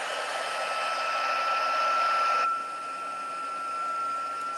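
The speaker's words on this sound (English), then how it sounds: "let's just hold this down and let's heat set it." Heat gun blowing hot air to heat-set embossing powder on copy paper, a steady close whirring blast that shifts slightly in tone partway through, alone without talk.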